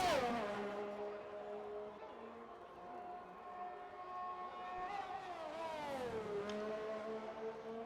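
A sim racing car engine howls in steady high revs, dipping briefly as it shifts down and then climbing again, loud and continuous with no pause and no talk over it.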